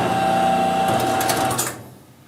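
An FN 450VS paper guillotine cutter drives its back gauge to a new position with a steady whirring motor hum and a few clicks. The sound stops abruptly after about a second and a half.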